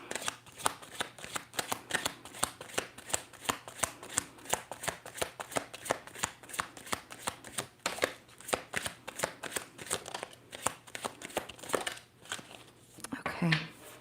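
Tarot cards shuffle in repeated quick riffles, a steady run of crisp, close flutters and slaps lasting many seconds, with a soft voice near the end.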